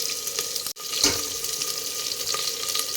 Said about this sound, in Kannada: ಎಣ್ಣೆ ಹಾಕ್ಕೊಂಡು ಸಾಸಿವೆ ಹಾಕ್ಕೊತಾ ಇದ್ದೀನಿ ಗೈಸ್. ಚಟಪಟ ಚಟಪಟ ಅಂತೈತಿ.